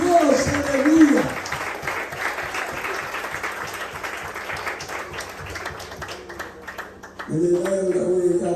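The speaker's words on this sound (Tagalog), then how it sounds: "Isang pinagpalang palakpak para sa Diyos." A church congregation at a Saturday preaching service breaks into sustained applause for God, several seconds of dense clapping, with a voice speaking loudly before and after it.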